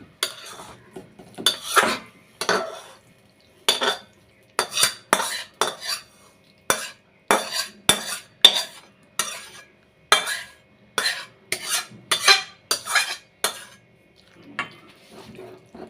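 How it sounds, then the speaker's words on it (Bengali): Cooked cabbage being scraped from a pan into a pot makes a run of sharp metal clinks and scrapes. The bursts repeat in an uneven rhythm, close and fairly loud, with brief quiet gaps between them. "পাত্রের মধ্যে ঢেলে নেব।"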